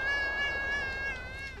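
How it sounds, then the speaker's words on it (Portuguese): A cat in the video game Thirty Flights of Loving lets out a loud, drawn-out wailing scream, a single sustained cry lasting over a second and fading at the end. "O gato tá muito louco, mano. O gato grita."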